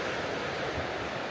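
Waves breaking on the Loch Ness shore give a continuous rushing surf with a soft, steady wash at moderate distance and no voices.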